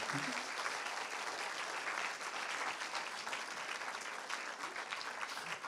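A film premiere crowd at a Paris cinema screening of Les Trois Mousquetaires: Milady claps continuously, a full, even roar of applause that never lets up for nearly six seconds, heard from within the room.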